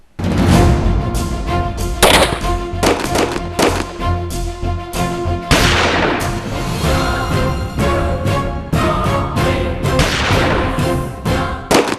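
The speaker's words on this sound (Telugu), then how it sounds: "ఏంటా కాల్పుల మోత? ఎవరు జరుపుతున్నారా కాల్పులు?" Repeated gunfire, reportedly from a firing range in the hills around Bonalapalle village, Karimnagar district: loud, dense sharp cracks and thuds recurring irregularly over a constant noisy background, with no talk.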